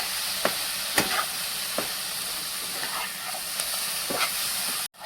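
Paneer filling cooking down and drying in a pan on medium gas, a steady hiss and sizzle with a few sharp clicks and scrapes of stirring, close and continuous until a brief cut at the end.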